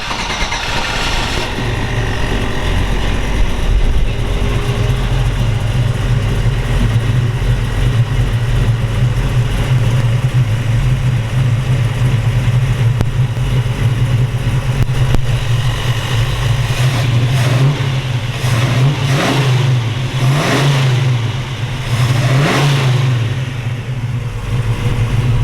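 A 1969 Chevrolet Camaro SS 427 V8 with a Tremec 5-speed starts while still cold and settles into a loud, lumpy idle, with a few blips of revving near the end.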